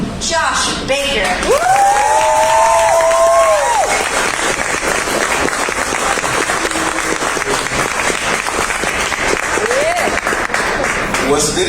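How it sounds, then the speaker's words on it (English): A large open-mic comedy audience claps and cheers loudly and steadily throughout, with whoops rising over the dense applause. "So please, share some joy by sharing this microphone and your applause with Josh Baker."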